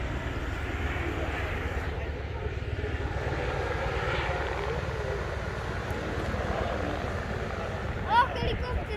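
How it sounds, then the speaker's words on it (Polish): A helicopter's steady engine drone fills the clip at a cycling race, loud and continuous, with faint voices underneath and a brief sharper noise near the end. "O, helikopter!"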